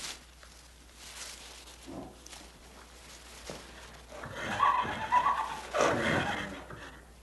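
A young Irish thoroughbred foal whinnies, with soft scattered sounds at first and then louder, wavering neighs building toward the end, heard fairly close with no talking.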